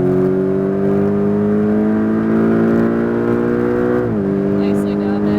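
A car engine drones steadily and pulls hard out of a turn on a coned driving course, its pitch holding, then dropping briefly around a shift. A coach talks over it.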